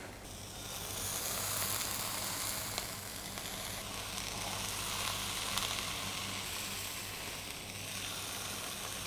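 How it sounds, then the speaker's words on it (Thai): The fat edge of a filet mignon steak fries in a hot pan, giving a steady, close, continuous sizzle and hiss that holds for several seconds without any talking. "คุณก็แค่ต้องทอด ขอบมันอะ"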